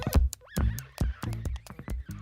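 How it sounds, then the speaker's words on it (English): Vegetable instruments played by an orchestra that performs only on vegetables: a run of sharp percussive knocks in an uneven rhythm, with a brief squeaky sliding whistle-like tone near the start, close and fairly quiet. "So that is the sound of vegetable instruments"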